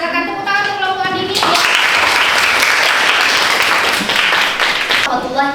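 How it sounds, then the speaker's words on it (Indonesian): Loud, sustained applause from a classroom audience for a student presentation group, bursting in suddenly after a spoken introduction and fading back into talk near the end. "silakan tepuk tangan untuk kelompok Andini."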